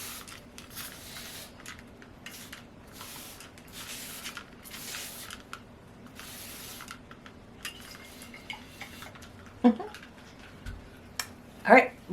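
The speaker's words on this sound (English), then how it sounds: "So let's just lightly spray this all over and let it sit." A spray bottle mists homemade oven cleaner inside an oven, giving several short, faint hissing bursts in an even rhythm, followed by soft clinks and handling noises.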